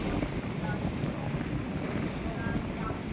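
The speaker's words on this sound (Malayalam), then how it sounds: "ആ കടലിലേക്ക് നല്ല ശക്തമായ കാറ്റൊക്കെ ഉണ്ട്." Strong sea wind blows across the microphone on the coast, a steady, fairly loud rumbling rush with gusty swells and no pause.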